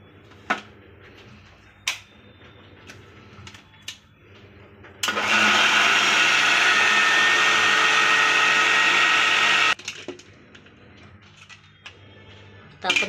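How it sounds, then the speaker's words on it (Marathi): A kitchen mixer grinder churns milk cream with cold water, a loud steady whirring burst of about five seconds between quieter moments of handling clatter. "आता मी मिक्सर लावून घेते।"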